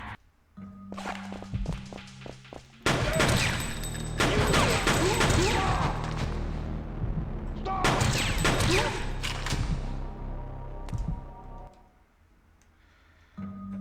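Gunfire bursts in the PS1 game Fear Effect, with loud dense volleys of shots from about 3 to 4 seconds and again from 8 to 10 seconds, between quieter stretches of footsteps and game ambience.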